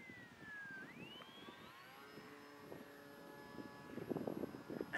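A Bixler RC model airplane makes a slow flyby, its motor whine rising and then holding a steady tone that carries across the clip, with rustling noise underneath.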